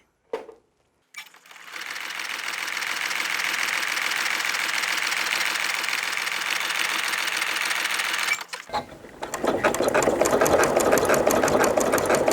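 Sewing machine with an AccuFeed walking foot stitching around the mitered edge of a baby blanket, a steady whirring run of about seven seconds, a short pause at a corner pivot, then stitching resumes, loud and close with no talk.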